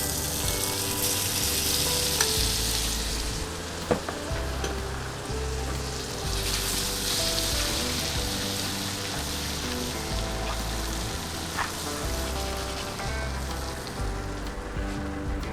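Butter sizzling loudly in a hot pan just used to sear steak, a dense, continuous crackling hiss with occasional pops and a brief clatter, steady throughout with no talking.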